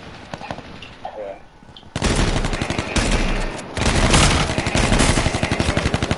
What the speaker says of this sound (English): Got them a couple of times with a shotgun